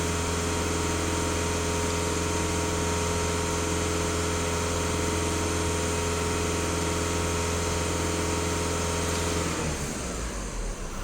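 A VW Jetta 1.6 TDI diesel engine runs at close range with a steady, even droning hum, its tone shifting abruptly in the final second.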